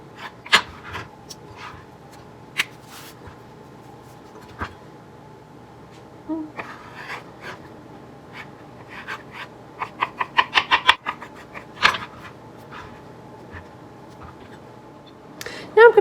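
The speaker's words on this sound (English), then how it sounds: "I'm just going to go ahead and cut the pieces up into a small dice" A paring knife dices fruit into small pieces on a cutting board, giving sharp, irregular taps that cluster into a quick run of chops, close and fairly clear over a quiet room.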